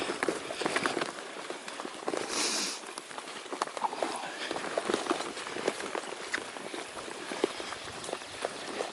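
Footsteps trudge along a forest portage trail in Algonquin Park, a dense, uneven run of close crunching and thudding steps that carries on without a break.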